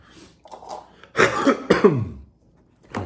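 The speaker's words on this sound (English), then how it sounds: "It's not a COVID cough either" A person coughs nearby, a couple of rough, throaty bursts that sound partly like throat clearing, with faint sounds before and after.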